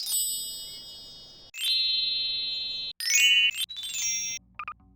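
Bright chiming reward dings from the video game Garry's Mod ring out in several separate bursts, each a clean tone that rings and decays before stopping abruptly, ending with a few short blips.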